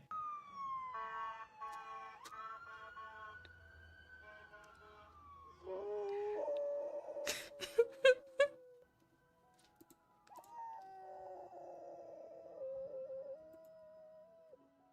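An ambulance siren wails in slow falling and rising tones, fairly quiet and close-miked, broken by a few sharp clicks and brief pauses.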